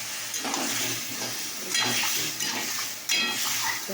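Spoon stirring soybean curry with whole spices in a pan, scraping and clinking against the metal with a soft sizzle underneath, in a few uneven strokes at close range.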